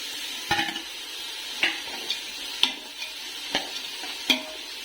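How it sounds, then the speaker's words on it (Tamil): Chicken and well-cooked vegetables for fried rice are stirred in a pan, with five or six distinct scraping clinks of a utensil spaced about a second apart over a faint sizzle. "நல்லா வெந்த காய்கறி இது. அதோட இந்த சிக்கனும் சேர்க்க போறேன்."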